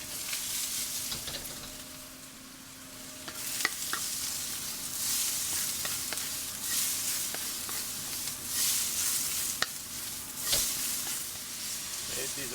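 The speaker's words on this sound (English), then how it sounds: "Wok is very hot. Add some oil. Give it a bit of a stir, make it non-stick. And throw in our aromatics." Aromatics sizzle steadily in very hot oil in a wok, with a continuous crackling hiss broken by scattered clicks and scrapes as they are stirred.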